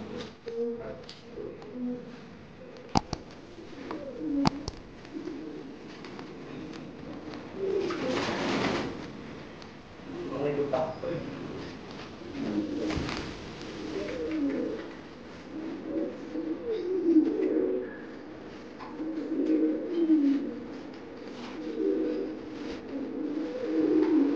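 Indian white bokhara pigeons coo in soft, repeated low rolling calls close by, with a few sharp clicks and faint background noise.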